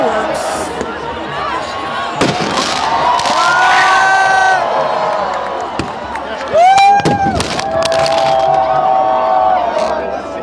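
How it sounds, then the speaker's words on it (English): A rowdy protest crowd in Paris shouts, chants and cheers loudly, with sharp bangs and whistling firework streaks cutting through the din. "the crowd is starting to get rowdier and louder"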